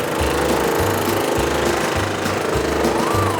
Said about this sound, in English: a precision cutter cuts through the wood